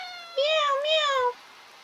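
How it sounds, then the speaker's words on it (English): A video game cat meows twice in a row, clear and fairly close, with rising and falling pitch and no other noise. "That is a cat. It was making cat noises."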